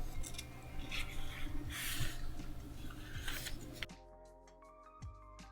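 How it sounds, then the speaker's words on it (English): Scissors snip through a washi sticker in a few quiet, close cuts, with light paper rustling between them, then a short stretch of soft handling noise. "so I just cut one of those out and glued it on."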